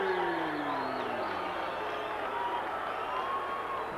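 A boxing arena crowd at the Terry Norris versus Simon Brown fight sends up a steady roar and murmur of reaction, with some whistles and voices mixed in, heard at moderate distance and sustained throughout.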